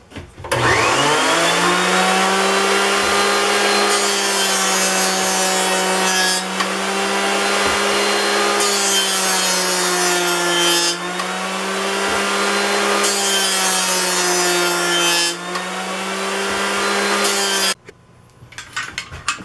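A woodworking jointer squares the edge of a board being made into a table leg, giving a loud, steady motor whine with ringing tonal hum through several passes that dips briefly between strokes before cutting off near the end.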